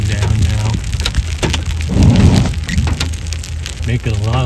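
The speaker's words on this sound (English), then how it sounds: "Nice pieces of hail coming down now." Hail and rain pelt a car during a New Mexico storm, a dense constant patter with a louder burst midway, and bits of voice underneath.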